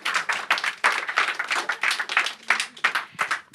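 A small audience at an environmental advocacy event claps steadily for a few seconds, the individual hand claps distinct and close with a sparse, uneven rhythm.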